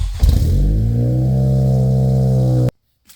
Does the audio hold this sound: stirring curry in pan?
no